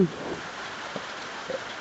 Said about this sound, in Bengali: আর এখন খুব বৃষ্টি হইতেছে